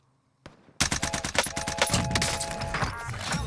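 Fara assault rifle firing in Call of Duty Warzone: after a short quiet lead-in, loud, close automatic bursts rattle in rapid succession and blend into a sustained stream of fire.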